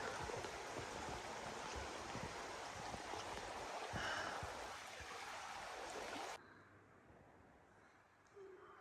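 A stream flows steadily along a hiking trail at Pinkham Notch on the Appalachian Trail, a broad close rushing wash that drops off abruptly near the end to a quieter outdoor hush.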